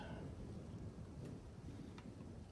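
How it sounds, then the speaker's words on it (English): Rain falls in the video game The Outer Worlds as a faint, steady broadband hiss with a low rumble underneath, heard alone and quietly throughout. "Oh, it's finally raining."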